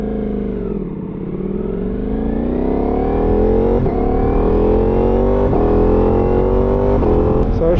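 A motorcycle ridden on a road, heard close from the rider's position as the engine climbs in pitch through the gears with steady wind rush and occasional shift dips, no talk over it.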